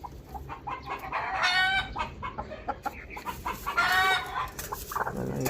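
Backyard chickens cluck repeatedly at close range, with a couple of louder drawn-out squawking calls between the shorter clucks and faint background noise.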